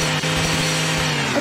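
A saw weapon in a Garry's Mod FNAF co-op game buzzes with a loud, continuous, steady motor drone throughout.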